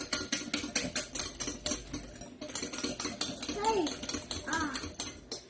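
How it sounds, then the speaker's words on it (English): Batter whisked briskly in a kitchen bowl, a quick, even clatter of whisk strokes against the sides, steady and close, with brief voices chiming in over the mixing. "All we're doing is whisking it together."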